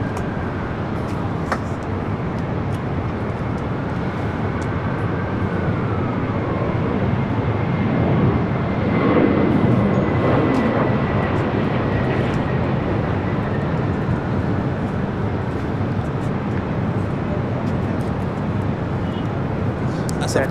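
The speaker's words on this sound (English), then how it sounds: "All we got that United 757 to 200 lining up. 6 right will be our next takeoff." A United Boeing 757-200 airliner taking off from LAX runway 6 right, heard as a continuous broad jet roar that holds for twenty seconds and swells slightly midway, with a faint whining tone gliding beneath.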